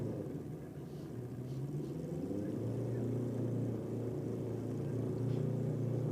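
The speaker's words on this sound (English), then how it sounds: "Edge Malice, making sure your eardrums are all clean there on board the Kawasaki H2R." A Kawasaki H2R motorcycle at a drag race, its engine a low, steady rumbling roar that stays fairly faint and distant throughout, with no voices over it.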